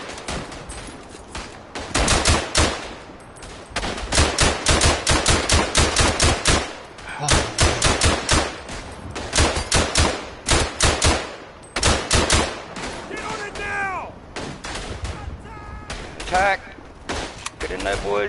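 Rapid bursts of gunfire from the World War I shooter game Verdun, with repeated sharp shots and volleys crackling loud and close through most of the stretch, and a few brief quieter gaps between the bursts.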